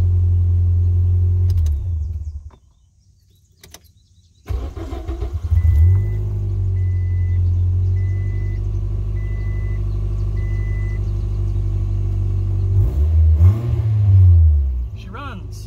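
A 2005 Scion xB engine, just fitted with a new fuel pump, starts after a brief silence and settles into a steady low idle, loud and close, with a short rev near the end.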